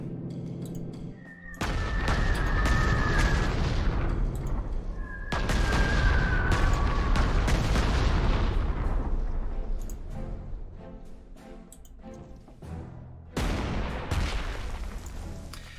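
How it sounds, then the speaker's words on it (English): Heavy artillery fire in the Panzer Corps WWII strategy game: loud, dense barrages of booming blasts in three sustained waves, each rumbling on for several seconds before fading, with no talking. "I need heavy artillery down there to unseat that, and I will be sending it very shortly"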